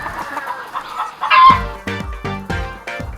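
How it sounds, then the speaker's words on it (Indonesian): Adult egg-laying hens on a farm cluck in a rhythmic series of sharp, close calls, with a louder squawk near the start and no talk over them. "ini dia nih ayam-ayam dewasa yang sudah mulai bertelur"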